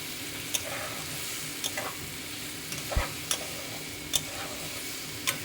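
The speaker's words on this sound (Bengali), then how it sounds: "এটাকে একটু ভালো করে একটু নেড়ে নিচ্ছি" Bottle gourd curry with sugar stirred in a pan as the water cooks off, a soft continuous sizzle broken by sharp spatula taps against the pan every second or so.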